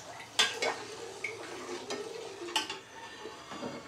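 A boilo drink mixture is stirred in a pot, with scraping spoon strokes and a few louder clinks against the metal, close and alone.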